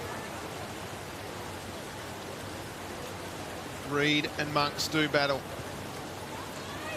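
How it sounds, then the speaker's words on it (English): Rain falls steadily on a football ground in Hobart during a colts grand final match, making a soft, even hiss throughout. A commentator speaks briefly over it midway. "the amount of rain that's starting to fall here in Hobart"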